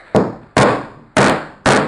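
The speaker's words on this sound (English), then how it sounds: "you hammer it softly across" A mallet taps the wooden pieces of a camera obscura kit being glued together, giving four sharp, close, evenly spaced knocks.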